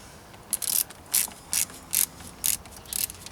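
A loose solar panel wire connection is tightened with a ratcheting tool. About seven crisp, close clicks repeat at a steady half-second rhythm with no talking.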